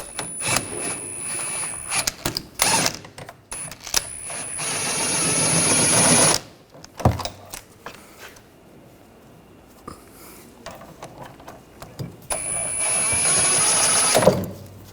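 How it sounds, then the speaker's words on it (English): A 15mm socket wrench backs a bolt out of the rear shock mount on a 2013-2019 Ford Escape, with loud whirring bursts of a few seconds each, separated by quieter clanks and handling noises. "Down below, we're going to use a 15mm socket. Take this bolt out."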